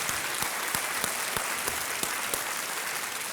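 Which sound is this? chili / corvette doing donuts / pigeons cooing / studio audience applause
studio audience applause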